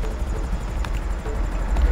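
A Buzzard helicopter sets down in GTA 5 Online, its rotor making a continuous low, pulsing drone with a few faint knocks on top. The sound is loud, steady and close, with no talking.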